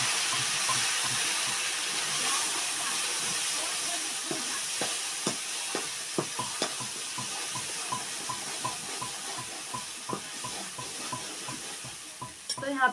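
Ground bhat (black soybeans) roasting with coriander seeds in a pan, with a steady hissing sizzle and repeated clacking scrapes of a spoon stirring, close and continuous without talk.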